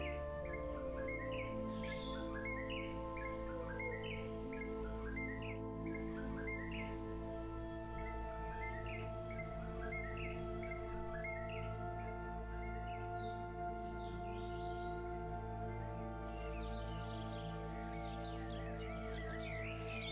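Red-winged blackbirds call repeatedly in a freshwater marsh in South Carolina. Their short, bright chirps repeat over a steady, dense drone of crickets and insects, with other faint bird calls in the distance.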